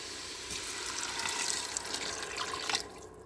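Three cups of water poured into a cooking pan for a beef bouillon broth, a steady close splashing stream lasting a few seconds before trailing off.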